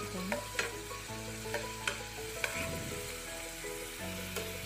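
Onion paste made from small onions fries in oil in a pan with a steady, close sizzle, broken by light clicks and scrapes of stirring and a faint hum in the background.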